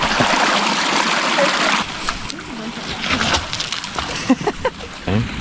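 Creek water in a canyon rushes and splashes loudly and close by, then drops to a lighter trickle with scattered splashes, as if someone is wading upstream.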